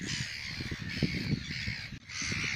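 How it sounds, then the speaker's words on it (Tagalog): Many seagulls calling at once at the Royal Albatross Centre in Dunedin, New Zealand, a noisy chorus of harsh caws and squawks over a steady windy background. "Ang daming ibon dito."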